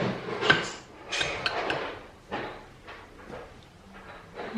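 A spoon scoops baking soda and starch into a saucepan in a home kitchen, giving a few close metallic clinks and scrapes at irregular intervals, with quieter rustling between them.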